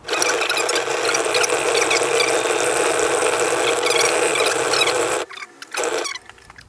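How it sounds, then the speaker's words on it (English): A fishing reel is reverse spooled with line, giving a loud, continuous rapid ratcheting whir that runs for about five seconds, then stops into short, separate bursts of winding. "But I'm going to spool it up now, reverse spool"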